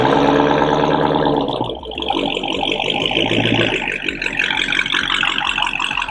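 A 2022 Dodge Charger Hellcat Widebody with a mid-muffler delete idles loud and close, a deep steady rumble that shifts partway through to a rougher, choppier burble.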